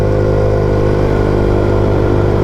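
Honda CB125F motorcycle with a slightly louder aftermarket exhaust, idling or running steadily: a continuous loud, close engine drone with a strong low rumble and no pauses, heard alone.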